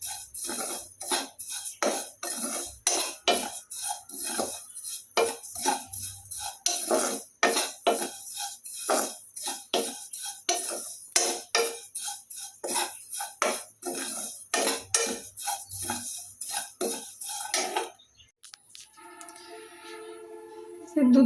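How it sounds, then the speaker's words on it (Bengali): Semai vermicelli being fried and stirred in an old iron karai: rapid, rhythmic scraping and clinking strokes, close and fairly loud, repeating steadily before stopping near the end. "এই যে সেমাইটা আমি এখন ভালো করে ভেজে নিব।"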